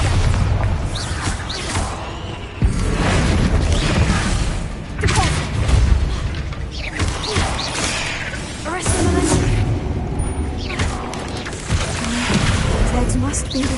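A Bombarda explosion spell is cast in a video game. Heavy blasts boom one after another, each a sharp burst that fades before the next, over dense game effects.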